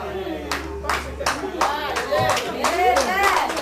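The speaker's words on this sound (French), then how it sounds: "Applaudissez, nous voyons ici." Hands clapping in a church congregation, a handful of sharp claps mixed with excited talking and a voice, fairly close and steady throughout.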